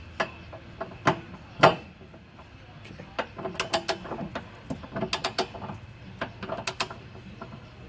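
A ratchet wrench snugs down a bolt, fitted with a 6-inch extension, giving a close, quiet series of clicking bursts and scattered knocks in irregular runs.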